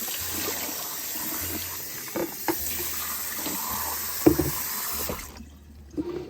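Tap water runs steadily while a kettle is rinsed out under a faucet, with a few soft knocks and splashes over the flow before it cuts off near the end.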